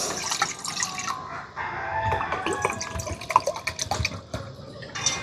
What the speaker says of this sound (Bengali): ভর্তি করে করে 2 বাটি জল দিয়ে দিলাম